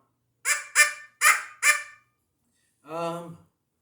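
A FOXPRO predator hand call, blown by mouth, gives four quick, sharp bird-like clucks in a row, then after a pause one longer honking note. Close and clear, no talking.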